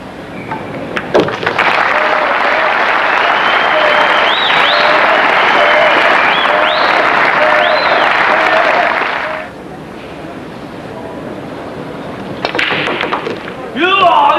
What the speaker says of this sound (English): Get a little rise out of the crowd.